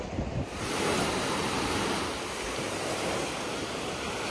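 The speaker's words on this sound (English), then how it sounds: "It's honestly so lovely on this jetty with the wind coming in." Sea waves wash and surge steadily against a jetty on Zante while strong wind buffets the microphone in a constant loud roar.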